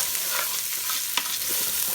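Rice and washed vermicelli are stir-fried in a pan for Egyptian rice, giving a steady close sizzle with soft scraping stirs and an occasional sharper clink, with no talking.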